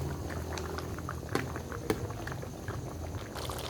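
Squid and eggplant with long green chili simmering in coconut milk, a quiet, steady bubbling with soft pops and splutters close by, no talking.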